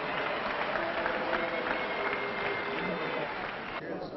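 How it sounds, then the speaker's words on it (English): Steady applause from an indoor audience at the 1982 Bassmaster Classic greets an angler, a dense continuous clatter of clapping that holds at a constant level with no talk on top. "Let's have a nice welcome, please, for Jack Chancellor of Phoenix City, Alabam"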